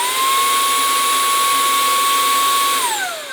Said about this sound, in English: well, it's a vacuum cleaner.